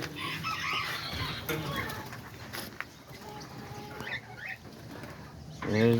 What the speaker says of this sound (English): there's the diamond doves.